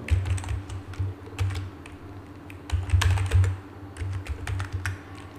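Someone types a password on a computer keyboard, a steady run of light, quick key clicks up close over a low hum, with no voices.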